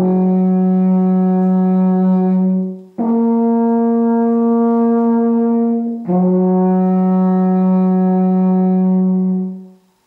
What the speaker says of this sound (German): Ihr könnt die Alpenrufe auf jedem beliebigen Ton beginnen, höher oder tiefer als ich.